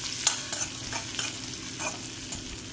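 Pistachios and almonds fry in a pan for sheer kurma while being stirred, a soft continuous sizzle punctuated by light scraping and tapping strokes at irregular intervals, close by and without voices.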